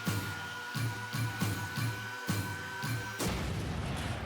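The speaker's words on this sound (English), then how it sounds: "now when I drive around, at some point, I should blow up" A run of repeated heavy booms with a metallic ring as a car explodes in Rocket League with the BakkesMod Boost Roulette plugin. The regular blasts give way to a broad burst of noise at the end, all loud and close.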